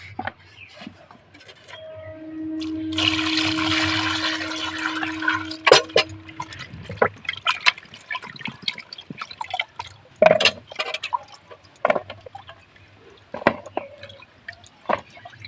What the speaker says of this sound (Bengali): পটলগুলো সব কেটে নিয়েছি এবার জলে ধুয়ে নেবো